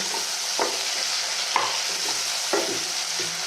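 Chopped tomato and onion sauté in an oiled pan with a steady sizzle, while a spoon scrapes and stirs in a few distinct strokes roughly once a second. Close and moderately loud, with no voices.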